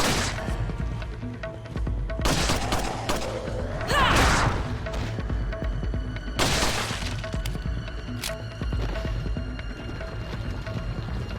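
Shotgun blasts from the Resident Evil 4 PC game's Separate Ways mode, sharp loud bursts around four and six and a half seconds amid a busy in-game soundscape, with no talk.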